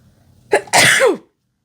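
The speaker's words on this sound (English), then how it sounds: "it is so painful to sneeze" A single loud, close sneeze with a short sharp intake followed by an explosive burst, then silence.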